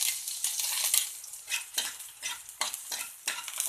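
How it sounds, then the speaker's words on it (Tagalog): Onion, ginger and garlic being sautéed in a hot pan, with repeated scraping stirs of a utensil in bursts over a soft background sizzle, close and moderately loud. "Ayan, nagisa na tayo ng sibuyas, luya, saka bawang."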